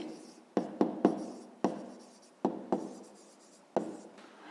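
Pen or chalk strokes while writing out an equation for a fifth-grade maths exercise, seven quick close scratches in an irregular rhythm, each sharp onset fading off, with no talk.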